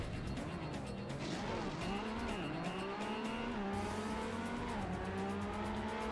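A car in the racing game Trackmania drives at high speed on a self-built track, its engine whining steadily and sweeping up and down in pitch, with tire noise, loud and close throughout.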